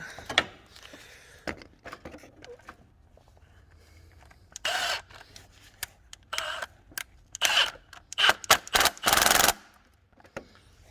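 Work on a Chrysler Town and Country engine during a head gasket replacement, with a tool tightening a bolt in short bursts of ratcheting clicks and mechanical clatter, sparse at first and denser toward the end.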